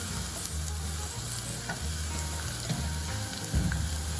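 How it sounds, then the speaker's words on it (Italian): Leek sautés in oil in a pan, a loud, dense, unbroken sizzle with a low rumbling undertone and small crackles throughout. "sta soffriggendo, iniziamo ad aggiungere il porro"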